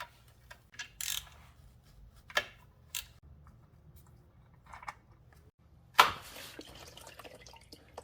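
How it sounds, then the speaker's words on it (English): Transmission fluid drips from the 09G automatic transmission of a 2010 MK5 Volkswagen Jetta 2.5L. Quiet, scattered drips and small ticks land at irregular intervals over a near-silent background, with a louder splash now and then. "more fluid is going to come out, so be aware of that"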